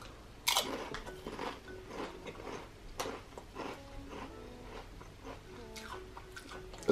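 Someone bites into and chews salt and vinegar potato chips from a snack pack, producing a loud close crunch followed by a series of softer crisp crackles and chewing sounds, with no talk.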